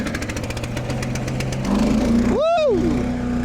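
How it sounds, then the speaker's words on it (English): A 49-horsepower Cat diesel auto-feed wood chipper starts up: a pulsing cranking chug builds into a louder steady diesel roar, with a rising and falling whine as it comes up to speed. The sound is close and loud. "This is a 49 horsepower cat diesel auto feed chipper that can handle up to 10-inch round logs."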